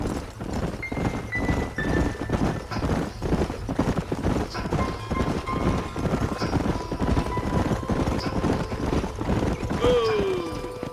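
Steady clip-clopping horse hooves beat in a fast, even rhythm throughout in Red Dead Redemption, with faint tonal game sounds drifting over the galloping.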